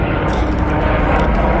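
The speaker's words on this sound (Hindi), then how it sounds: "केदारनाथ में हेलीकॉप्टर चल रहे हैं" Helicopters flying near Kedarnath in the Himalayan mountains give a steady, loud low rumble of rotor and engine noise that fills the short stretch without pause.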